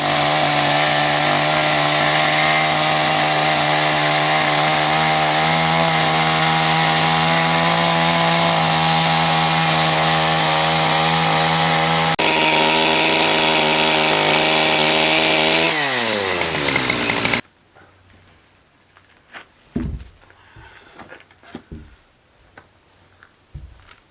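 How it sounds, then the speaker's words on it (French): A chainsaw roars loudly and steadily while cutting a tree trunk, then winds down and stops, leaving quiet rustles and a few soft knocks. "rester en position sur le côté comme ça et puis arrêter la tronçonneuse"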